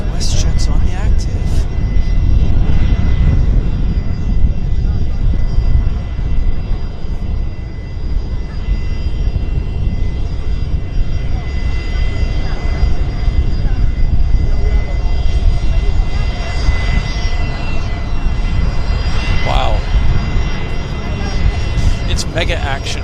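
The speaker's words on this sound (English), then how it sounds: "Westjet's turning on to the active. Westjet's on the active." A WestJet airliner's engines roar loudly and continuously on the active runway at Vancouver Airport in strong winds, with wind buffeting and people talking over the noise.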